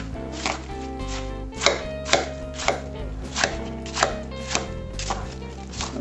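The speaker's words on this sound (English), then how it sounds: "A little bit of kiwi. Chop it up in small pieces so it will circulate throughout." Kiwi is chopped into small pieces on a board, a knife striking in an even rhythm of about a dozen crisp, close taps over a low background hum.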